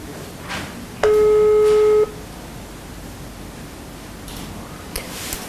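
A single steady telephone call tone sounds for about a second while dialing the Prosecutor General's Office of Ukraine, clear and close over faint background hiss, then silence.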